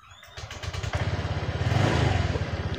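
Honda Vario 125 scooter, one with an idling-stop fault, cranks with a short starter whir, catches and settles into a steady, throbbing idle, close and loud with no talking.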